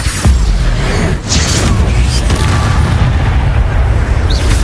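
Confringo fire-blast spell from the game Hogwarts Legacy, a loud, continuous booming explosion with roaring, rumbling debris that fills the whole moment without a break.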